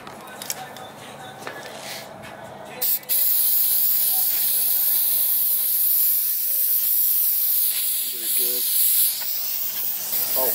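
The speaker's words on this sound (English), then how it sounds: "then we can peel it back and spray the glue underneath" Spray glue hisses loudly and continuously from a can aimed underneath a peeled-back scooter seat cover, starting after a few seconds of handling noise, with brief voices in the background.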